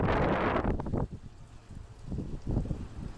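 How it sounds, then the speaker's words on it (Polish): Strong gusting wind buffets the microphone in loud roaring bursts beside a Volvo truck, easing briefly before surging again. "Tak piździ wiatrem"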